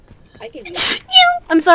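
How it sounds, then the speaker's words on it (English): A single sharp sneeze bursts out from a person during a game playthrough, right between short bits of their speech. "I sneezed."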